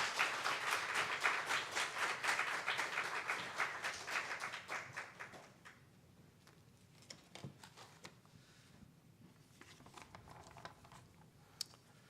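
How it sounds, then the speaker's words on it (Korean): A church congregation breaks into steady, dense applause as a pastor comes out to preach, the clapping strong for several seconds before thinning to scattered claps under a low room murmur. "when he comes out, let's all give him a round of applause"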